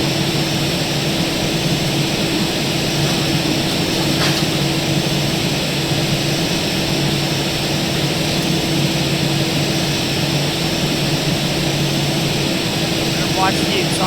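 A Boeing 737 auxiliary power unit runs in the X-Plane flight simulator with the Zibo mod, a steady, even whine and broadband hum that holds level for the whole stretch.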